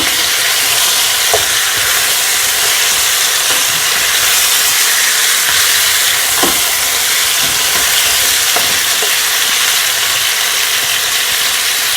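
Browned stew chicken and broccoli frying in a single pan, a loud continuous sizzle and hiss with occasional soft stirring scrapes, no voices.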